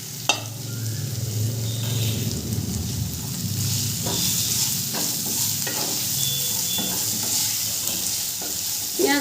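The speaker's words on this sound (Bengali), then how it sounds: "পেঁয়াজটা দিয়েও খুব ভালো করে ভেজে নেব।" Chopped onion and green chilli for semolina upma fry in a pan with a steady, close sizzle, broken by repeated light scrapes and taps of a stirring spoon.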